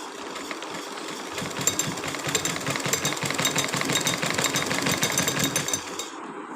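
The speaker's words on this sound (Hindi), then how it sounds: "यहाँ पे सिलाई लगा लेती हूँ" A domestic sewing machine stitches multicolour fabric, running in a steady, fast mechanical chatter at close range for several seconds with no voices.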